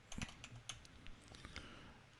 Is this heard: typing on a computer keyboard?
yes